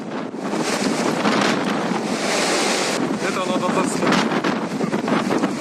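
Squall wind during a storm in Ukraine's Dnipropetrovsk region, strong enough to break trees, roars as a loud, continuous gusting rush that buffets the microphone throughout.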